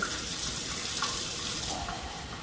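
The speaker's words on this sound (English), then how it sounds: "I'm gonna fill it up with water." Tap water runs into a pan in a kitchen, a steady, close hiss of a faucet stream filling the vessel, with no talking.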